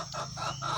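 A Kukuak Balenggek rooster, the yellow bird called Kuniang, crows close by in a short sequence of about three rising, warbling notes over a low steady background hum.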